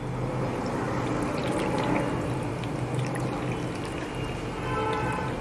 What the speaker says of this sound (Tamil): இப்போ நம்ம கரைச்சி வச்ச மாவை இது மாதிரி ஃபில்ட்ரு பண்ணிடலாம்.